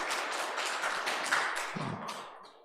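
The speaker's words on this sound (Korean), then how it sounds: "박수 받으려고 했던 건 결코 아니지만" Audience applause, a dense wash of clapping from a crowd that holds steady and then tapers off over a couple of seconds.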